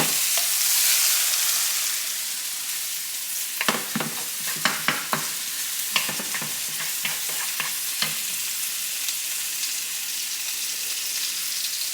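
Meat sizzles steadily in a pan for homemade spaghetti sauce while a utensil scrapes and stirs it in irregular clicks and knocks, close and fairly loud with no voices.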